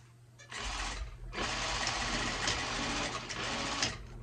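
A sewing machine runs steadily at close range, sealing elastic into a large satin hair bonnet, with a short pause before the whirring stitching resumes and continues to the end.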